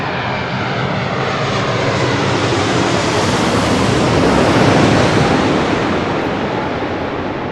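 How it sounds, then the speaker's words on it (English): An American Airlines Boeing 787-8 Dreamliner landing at LAX makes a loud, continuous jet roar that swells and peaks mid-pass, then eases slightly, with broad rushing noise throughout. "862 coming in from Miami, Florida on a 787-8 Dreamliner"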